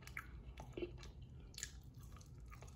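Someone chews Old Bay air-fried chicken wingettes up close, with soft wet bites and light crunches in a quiet room.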